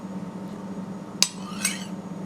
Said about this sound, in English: Hear that click? Could that be why I have a nick in my knife?